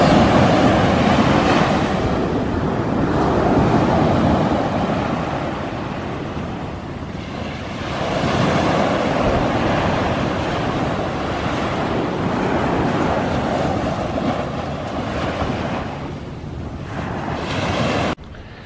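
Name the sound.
strong ocean waves and surf at La Union beach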